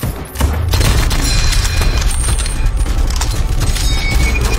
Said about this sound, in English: They literally used an M1 Grand Ping sound effect when that old ass gun ain't even in the shot